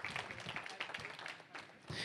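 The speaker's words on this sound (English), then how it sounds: "Can we give them a hand clap?" A church congregation claps for children, a brief, fairly quiet patter of scattered hands lasting about two seconds, uneven and thin rather than a full ovation.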